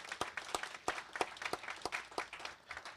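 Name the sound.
audience applauding at a summit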